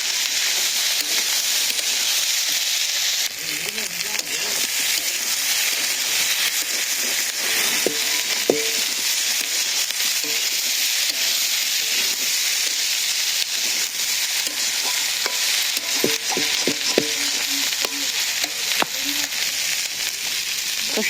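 Jackfruit curry sizzles and fries in a pan over a village cooking fire and is stirred now and then. Steady hiss fills the whole stretch, with scraping clinks of the spoon and faint talk in the background.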